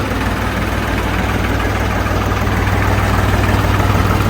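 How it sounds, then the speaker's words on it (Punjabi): A Swaraj 744 tractor engine idles close by with a steady, loud diesel chug and low rumble, running continuously without change and no voices over it. "ਆਵਾਜ਼ ਵੀ ਘੈਂਟ ਆ ਬਾਈ ਟਰੈਕਟਰ ਦੀ"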